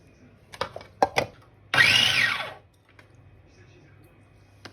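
A blender whirs through venison steak ingredients in a single loud burst under a second long, set between a few sharp clicks and knocks.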